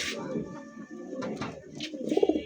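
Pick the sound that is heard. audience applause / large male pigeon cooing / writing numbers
large male pigeon cooing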